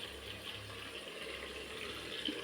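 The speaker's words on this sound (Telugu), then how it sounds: "రైస్ వంపినాను నేను, రైసు వంపేసినాను" Water pours steadily from a pot of cooked rice as it is drained in a home kitchen, a continuous close splashing rush lasting throughout with no speech.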